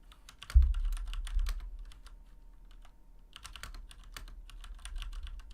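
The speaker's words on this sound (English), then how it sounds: "Sorry, my keyboard is so loud." A loud computer keyboard clacks in quick typing bursts, pauses, then resumes with rapid keystrokes, close to the microphone in a quiet room.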